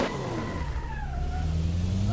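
Engine of a BMW e92 drift car in a racing video game, revving and wailing with pitch sweeps as the car slides, tyre noise underneath, loud and close.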